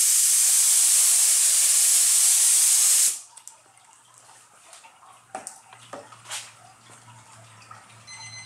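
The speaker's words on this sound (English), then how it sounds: "Using Kansas Hydrographics activator, about 20 PSI of the gun." A spray gun at about 20 PSI sprays Kansas Hydrographics hydrographic activator in a loud, steady hiss for about three seconds, then cuts off abruptly, leaving quiet room noise with faint scattered clicks and movement.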